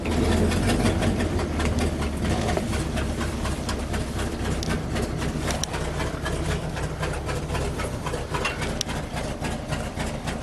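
A 1974 International Fleetstar ex-fire truck engine idles at low revs, a heavy, steady diesel-like rumble with a rapid clattering pulse heard close by throughout.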